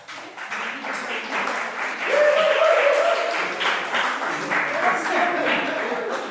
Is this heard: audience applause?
yes